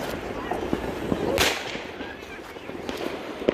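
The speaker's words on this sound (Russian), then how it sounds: "Ой, ну это фейерверк, а не салют." Fireworks burst on New Year's night in a town square, scattered pops and crackles, mostly distant, with one louder burst, while people talk nearby throughout.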